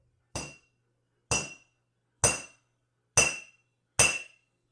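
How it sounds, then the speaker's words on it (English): Five evenly spaced hammer strikes on a small piece of aluminum, each a bright, ringing metallic clink that fades quickly, close and clear with silence between blows. "Going to give it a few hits with the hammer."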